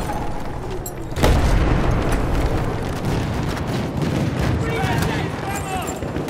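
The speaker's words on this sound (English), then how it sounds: "There's an enemy machine gun." Battlefield 1 combat noise with a dense, continuous barrage of gunfire from an enemy machine gun, heavy and sustained throughout, with explosions and a voice speaking over the din.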